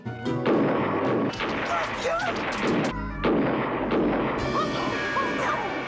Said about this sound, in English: there's a lot of shooting at them going on